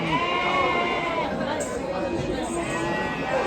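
Sheep bleat repeatedly at a large, busy Maharashtra goat, sheep and poultry market, their cries rising over crowd chatter and someone talking nearby.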